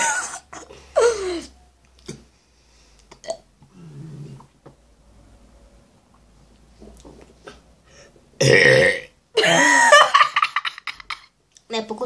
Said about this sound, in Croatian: Podrigivanje na silu.